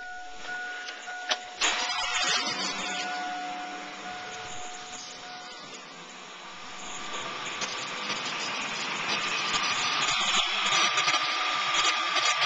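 A running engine with a noisy drive belt gives a continuous whirring, hissing drone with a faint high whine, steady and close, with a couple of sharp knocks near the start.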